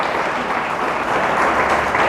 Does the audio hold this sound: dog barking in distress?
no